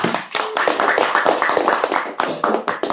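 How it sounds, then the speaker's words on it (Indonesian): Audience at an Islamic religious sermon clapping hands, a dense, loud burst of rhythmic claps from many people close by, sustained throughout with no talk. "Tepuk tangan."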